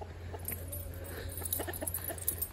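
Soft clucking from several roosters, scattered and irregular, heard at a moderate distance in a backyard coop over a steady low hum.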